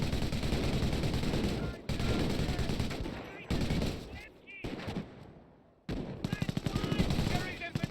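Machine gun emplacement in Company of Heroes hammering out long bursts of rapid automatic fire, broken by short pauses, with a distant battle ambience and a voice briefly heard amid the shooting.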